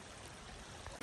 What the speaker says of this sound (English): There's water coming here, there's water coming here, flowing together.